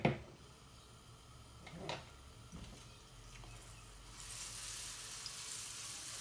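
Ginger and garlic paste frying in hot oil in a pan, a soft steady sizzle with a few light clatters early on, swelling into a louder, broader hiss near the end.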